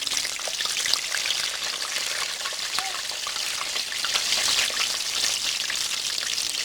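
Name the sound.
burritos deep frying in Crisco oil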